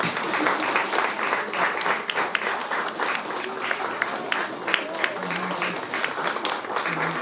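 A large audience at a Korean school's 40th anniversary ceremony in Düsseldorf applauds continuously, dense clapping filling the room at steady volume from start to finish.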